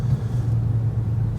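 Mazda CX-5 with a naturally aspirated 2.4 liter Skyactiv-G four-cylinder engine and all-wheel drive at full throttle, a brief, steady low engine drone heard up close without talk.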